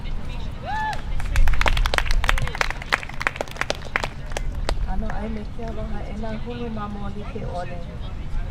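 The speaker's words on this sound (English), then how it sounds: "Let's give her a round of applause as she speaks to us from NREM." An audience at a campus higher-education rally applauds a speaker coming to the stage, the clapping sharp and scattered at first before thinning out beneath a voice speaking over it.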